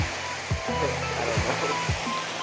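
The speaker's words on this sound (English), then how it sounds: "It's waterfall numero uno." A waterfall on a hiking trail roars as a loud, constant broadband rush, with a few brief low thumps breaking through the steady wash of water.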